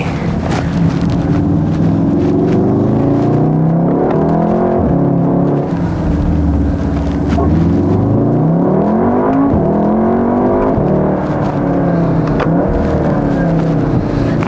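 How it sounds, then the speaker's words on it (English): Tuned VW Mk7.5 Golf R engine pulling hard under acceleration, a steady, loud, close drone with pitch sweeping up and down through gear changes and throttle shifts, running continuously without talk. "Car drives and pulls nicely."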